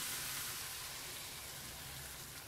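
Zucchini strips and beaten egg fry in a pan for an omelette, giving a steady, close hiss of sizzling oil that continues evenly throughout with no talking.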